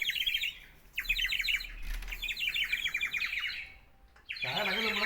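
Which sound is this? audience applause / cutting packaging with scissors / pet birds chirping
pet birds chirping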